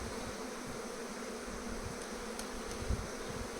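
Honey bees from a captured swarm hum in a dense, continuous buzz close by, steady throughout with no voices.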